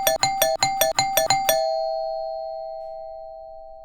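A doorbell chimes in a quick run of about seven rings, then the final tone lingers and slowly fades out, loud and close with nothing else present.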